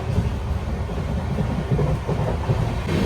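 The Charminar Express rolls along at high speed near Chennai: a continuous, loud rumble of wheels and carriage noise with no break and no voices.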